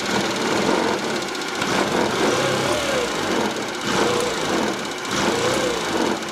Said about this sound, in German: Was er immer noch hat, ist dieses leichte Verschlucken, wenn man ihn hochdrehen lässt.